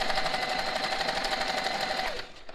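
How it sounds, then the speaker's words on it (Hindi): Usha Janome Marvela sewing machine running an interlock stitch on fabric, a steady fast mechanical whir with rapid needle ticking that holds evenly, then winds down and stops near the end. "तो इस तरीके से हम कपड़े को पकड़ेंगे, ये ऑपरेट हो रही है, इंटरलॉक।"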